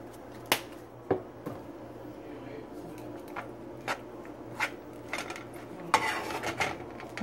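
A utensil mixes turmeric rice in a pot, giving scattered scrapes and sharp clinks against the metal at irregular intervals over a faint background.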